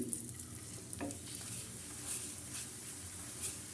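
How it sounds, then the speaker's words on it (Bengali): Aloo parathas fry in oil over medium heat with a faint, steady sizzle and occasional soft scrapes of turning, heard quietly and without talking. "এভাবে মাঝারি আছে ভেজে নেব আলুর পরোটাগুলো"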